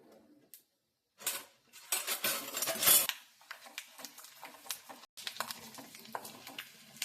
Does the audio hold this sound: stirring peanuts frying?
yes